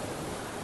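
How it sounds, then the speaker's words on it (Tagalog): Sea waves washing on the shore, a steady broad wash of surf noise, fairly loud and continuous with no individual breaks standing out. "hindi masyadong malakas yung alon"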